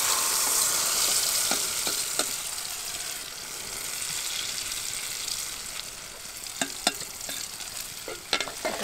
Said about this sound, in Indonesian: Sekarang kita goreng telurnya.